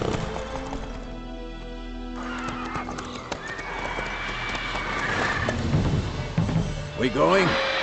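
Roach the horse in The Witcher 3 gallops with quick clip-clopping hooves, then lets out a loud neigh near the end, while voices talk over the action.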